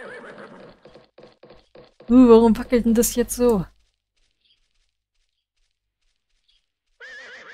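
Horse whinny in a riding-school video game, a loud burst of neighing lasting over a second amid quieter talk and light hoof clatter, followed by near silence and then speech.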